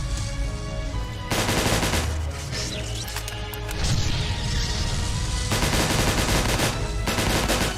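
Sustained gunfire in the war game Ancient Warfare 3, with rapid automatic bursts and crashing impacts in dense, loud volleys that surge and pause across the battle, no talking.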